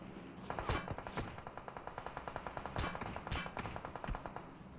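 Rapid automatic gunfire in PUBG Mobile, a fast rhythmic string of sharp cracks repeating steadily for several seconds, with a few heavier louder shots standing out, no speech.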